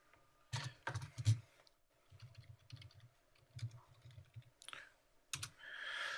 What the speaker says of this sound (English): does the keyboard work, Emily?